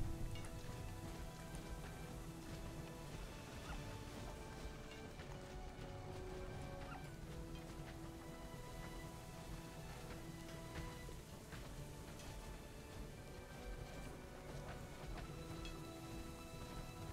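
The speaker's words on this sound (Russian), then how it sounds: "А, это град" Hail and a thunderstorm in the video game Rise to Ruins: dense rattling patter of hailstones and rain runs steadily throughout at a low level, with faint rumbling mixed in.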